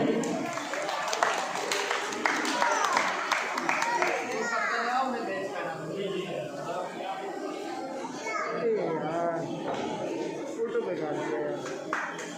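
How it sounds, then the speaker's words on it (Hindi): Audience applause at a karate event, a steady spread of clapping from a crowd with children's voices and chatter mixed in throughout. "ये जोरदार तालियां सभी।"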